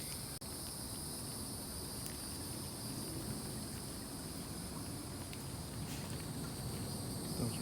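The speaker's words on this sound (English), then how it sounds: "Throw some crickets in the water for him." Crickets fed to a broad-snouted caiman in an exotic animal enclosure chirp as a steady, high, continuous trill over a constant hiss, with a brief click near the start.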